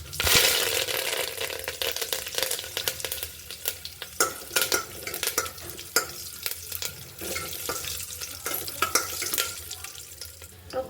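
Mustard seeds and curry leaves sizzle and crackle in hot oil while tempering for avarekalu dal sambar, a steady frying hiss with sharp popping spatters and occasional stirring clinks, close and fairly loud, with no talking.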